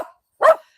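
A puppy gives a single short, sharp bark close by, preceded by a brief faint yip, with silence around both.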